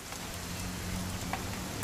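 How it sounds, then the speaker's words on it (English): Rain falls in the video game What Remains of Edith Finch, a steady soft patter and wash of drops that continues without a break and carries no speech. "It's gonna rain the whole weekend,"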